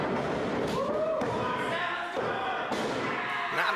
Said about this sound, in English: Oh, big suplex by Braun.